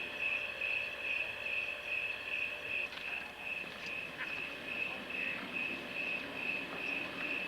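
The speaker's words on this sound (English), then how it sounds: "Listen to those crickets." Crickets chirp at night in a steady, high, pulsing drone that carries on unbroken, with faint scattered background noises underneath.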